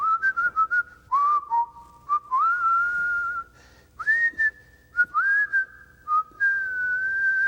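A man whistles a bright, tuneful melody solo, with sustained and gliding notes broken by short pauses, clear and close.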